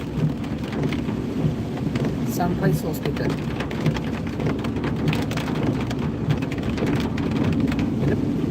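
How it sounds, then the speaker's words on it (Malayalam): Heavy rain pours steadily with rumbles of thunder, while a person talks over the constant downpour. "മഴയുണ്ട്"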